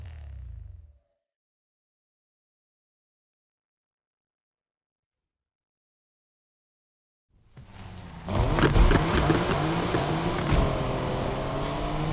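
A car in the racing video game Need For Speed Unbound starts up after a long silence, then its engine roars loud and steady as it drives off, revving through gears.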